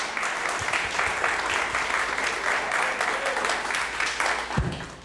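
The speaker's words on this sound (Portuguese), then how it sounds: "vamos aplaudir uma vez mais" A church congregation applauds during a Sunday worship service, producing a broad, continuous roll of clapping that stays full and even throughout, with a few sharper thumps near the end.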